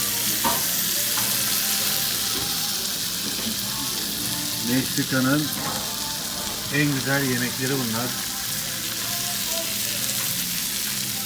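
A hot pan of Mexican food sizzles and crackles steadily, with people talking over it and faint clinks in the background.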